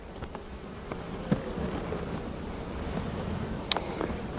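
Honey bees buzz around an open hive frame of capped brood in a continuous close drone, with a few brief louder passes near the microphone.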